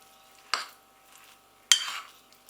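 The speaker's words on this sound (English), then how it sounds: "I'm going to give it a good stir because the soya, as we said earlier, is now like a little sponge." Soya mince stirred in a warm pan with a spoon, two brief scraping, rustling strokes about a second apart, close and clear against near silence.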